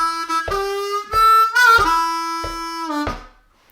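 Harmonica playing a rhythmic lick from a song, a sustained draw note bent down partway through, with repeated clear tonal phrases and short breaths between, close and solo without other sounds.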